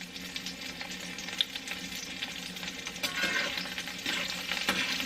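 Onions fry in a cast iron pan on high heat, giving a steady close sizzle with occasional stirring scrapes and a slight swell in intensity toward the end, no talking.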